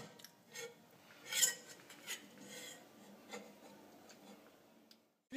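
Clinking and scraping of cutlery and dishes being washed, with intermittent knocks and rubbing sounds at a moderate distance, no voices.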